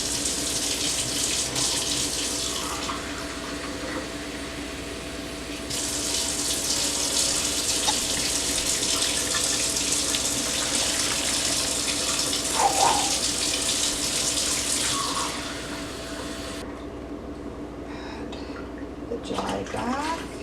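Very hot water pours steadily from a tap into a bowl holding green dye for a cloth dye bath, making a continuous close gushing rush with brief changes in flow.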